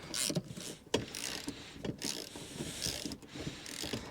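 A ratchet socket wrench undoes recessed Torx bolts holding a Recaro ST seat in a Ford Fiesta Mk7, giving repeated short clicking ratchet strokes and mechanical rattles at close range.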